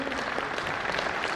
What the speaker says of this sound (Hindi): आप तालियां बजाते रहें,